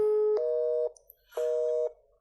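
A telephone line gives two long, steady electronic tones, each breaking into a slightly lower pitch before cutting off, with a short silent gap between them and no voices.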